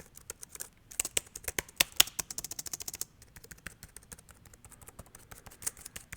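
Keys tapped on a Cherry KW7100 wireless keyboard, a quiet, uneven patter of light clicks in irregular bursts with brief pauses, close and isolated.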